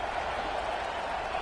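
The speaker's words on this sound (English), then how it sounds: "The crowd elevating its energy, willing this defense to get a stop on this big 3rd down" A steady wash of stadium crowd noise from the NCAA 26 college football video game, a sustained roar of cheering with no distinct peaks, swelling on a big third down.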